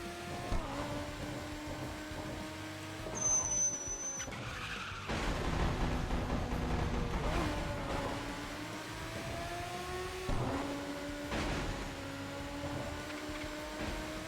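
Video game cars race along, their engines holding a steady tone that swells and rises in pitch again and again as they accelerate, moderately loud, with occasional louder whooshes and no speech.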